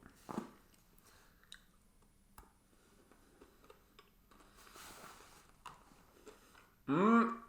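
Close, small crunchy chewing and clicking bites of Tony's Chocolonely chocolate over a quiet background, followed by a brief loud vocal sound at the end.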